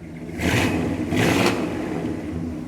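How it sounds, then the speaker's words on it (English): An old Dodge Monaco engine revs up twice in quick succession, each surge rising then settling back to a loud, rumbling idle nearby. "Give her a little rev."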